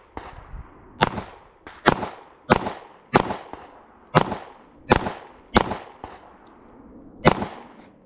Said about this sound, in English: Ten shots.